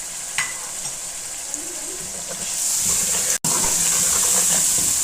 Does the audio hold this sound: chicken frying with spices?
yes